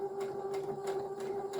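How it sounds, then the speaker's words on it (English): A domestic sewing machine stitches a dart in dress fabric for a New Look 6483 top, giving a steady mechanical hum with a regular rhythmic clatter roughly every third of a second, close and even throughout. "you take your fabric under the foot, needle down and forwards and back at the start"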